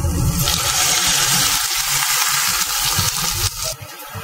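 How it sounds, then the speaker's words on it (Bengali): Spice masala sautéing with water in a pan for a Bengali fish and eggplant dish, giving a loud, steady sizzling hiss throughout with a brief dip near the end. "তো চলো এবার জল দিয়ে একটু ভালো করে কষিয়ে ফেলি মশলাটাকে।"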